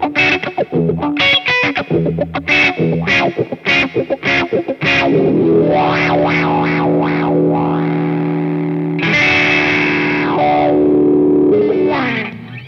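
An electric guitar plays through a Boss Blues Driver overdrive into a white Dunlop Cry Baby Junior wah pedal, loud and distorted, first choppy strummed chords, then sustained notes with sweeping wah swells.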